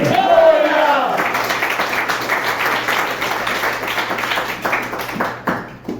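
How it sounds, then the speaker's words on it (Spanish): A church congregation claps and cheers in a dense, sustained wash of applause that fills a large room for several seconds before thinning out. A voice rings out at the start. "Dale una ofrenda de palmas a Él"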